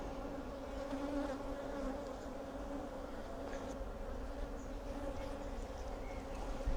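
Honey bees drone in a steady, continuous buzz from an open hive full of honey, close and dense, with a low hum persisting throughout and no talking.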